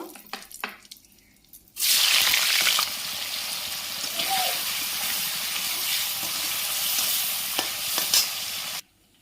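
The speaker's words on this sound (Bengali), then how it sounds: "পনিরটাকে ভেজে নেব।" Pieces of paneer hit hot oil for matar paneer, setting off a loud, close burst of sizzling that settles into a steady bubbling fry with occasional spatters and stirring, then stops abruptly; faint kitchen clatter precedes it.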